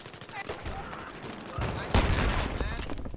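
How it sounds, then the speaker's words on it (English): Light machine gun firing from the hip in Battlefield 3, heard as loud clattering bursts that build through the second half amid other battlefield noise, with faint voices behind. "Just hip firing the LMG."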